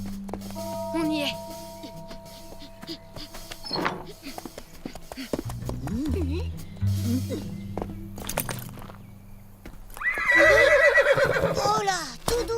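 A horse whinnies loudly near the end, a long shrill neigh rising over background music and a voice, after earlier shuffling and thumps in a cartoon scene.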